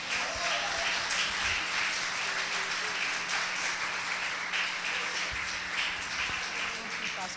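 A church congregation applauds, a steady dense wash of many hands clapping at moderate distance that fills the room for several seconds, with faint voices beneath.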